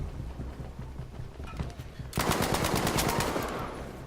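Rapid automatic gunfire in Battlefield 5 gameplay on PS4 Pro: scattered shots first, then a loud sustained burst of machine-gun fire that fades slightly at the end.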